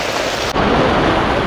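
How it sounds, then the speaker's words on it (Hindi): Rain begins falling outdoors during a motorcycle road trip, a dense, loud, steady hiss that sharpens abruptly partway through, with no talking. "और ये देखो बारिश यहाँ पे चालू हो गई"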